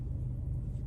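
Steady low rumble of cars in traffic heard from inside a waiting car, a continuous muffled engine and road drone with no voices.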